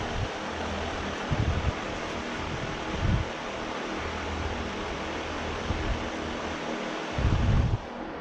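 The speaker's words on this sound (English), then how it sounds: "That noise you're hearing is my nice fan over there I got from Harbor Freight." A Harbor Freight shop fan runs steadily in a hot workshop, a constant broad whooshing drone heard close with occasional low thumping bursts and no voices.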